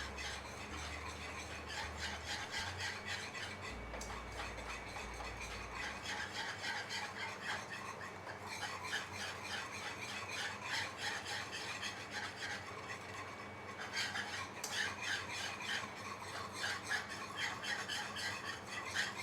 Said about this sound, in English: We're just giving this a constant stir.